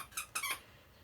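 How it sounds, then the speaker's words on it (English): A squeaky toy squeaks two or three times in quick, sharp bursts, close and fairly loud, then falls quiet. "Oh, squeaky toys!"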